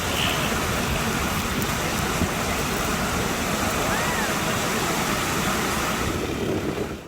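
Floodwater pours into a district of Balochistan, Pakistan, a loud, steady broadband roar of rushing water that holds unbroken and close throughout, fading slightly at the very end.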